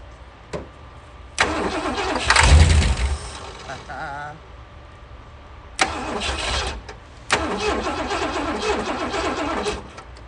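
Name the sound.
1967 Lincoln engine firing up on starter fluid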